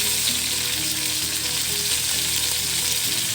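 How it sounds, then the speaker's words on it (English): Steak sizzles steadily as it browns in a hot frying pan, a constant close crackling hiss with no pauses and no talking. "I'm just going to brown that a little bit on the outside."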